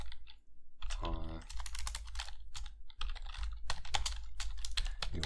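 Typing a terminal command on a computer keyboard: a quick, irregular run of crisp key clicks close to the microphone, with brief pauses between bursts.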